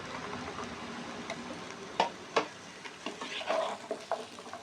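Green peas tipped into a frying pan and stirred, with a vegetarian broccoli dish cooking, giving a soft sizzle with a few sharp spoon scrapes and clatters against the pan, close and moderately quiet, no voices.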